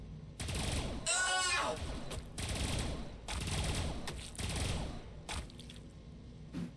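Units shooting in Warhammer 40000 Battlesector: several loud sustained bursts of rapid gunfire with mechanical whines, separated by short pauses.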